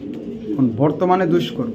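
A female racing pigeon of top racing stock gives a close, soft, throaty coo in a few rolling pulses.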